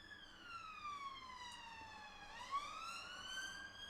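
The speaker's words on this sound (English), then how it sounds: "Ambulance going past." An ambulance siren wails past in a quiet area, its pitch sliding down and then back up as it passes, steady and moderately distant throughout with no talk.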